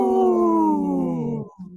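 A woman gives a long, falling howl in imitation of a wolf, loud and close, tailing off at the end.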